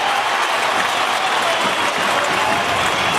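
Crowd noise roars at an AFL football match between North Melbourne and Carlton, a dense, loud wash of cheering and clapping filling the whole moment without a break.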